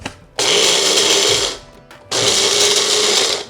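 A grinder whirs loudly in two bursts, each just over a second long with a brief pause between, as it grinds roasted seeds together with sautéed garlic, onion and coconut.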